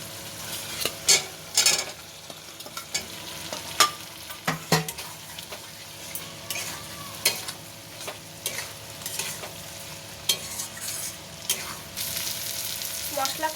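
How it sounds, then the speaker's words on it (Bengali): Spice paste and potatoes fry in oil in a pan for a thin katla fish curry, a continuous sizzle broken by repeated close spatula scrapes and taps against the pan, with no talking. "এবার আলুগুলো দিয়ে মশলাটা আবার ভালো করে কষিয়ে নেবো"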